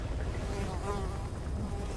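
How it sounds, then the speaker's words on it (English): Flies buzzing continuously around the player's head in Metal Gear Solid V: The Phantom Pain, a close, steady, wavering drone with no talking. "Flies buzzing around your head is never a good sign."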